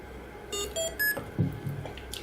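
A few short electronic beeps and chirps at different pitches as a FeiyuTech gimbal handlebar unit powers on, close by, followed by a soft mechanical whir.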